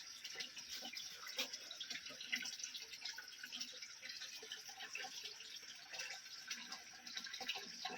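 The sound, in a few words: spring water flowing out between stones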